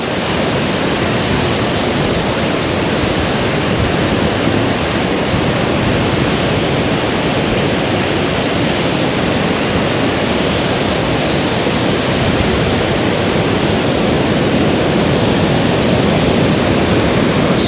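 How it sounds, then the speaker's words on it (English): A wild river in Germany splits and rushes fast, making a dense, steady roar of churning water that stays loud and unbroken throughout. "So here the river is dividing into this part, which is very wild"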